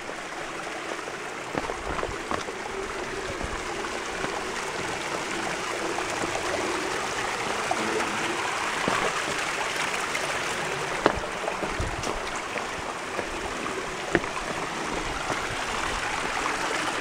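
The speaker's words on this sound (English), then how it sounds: "Here, nice little waterfall." Small waterfall feeding a stream in a sandstone canyon, a steady close rush of splashing water with a few faint knocks and no voices.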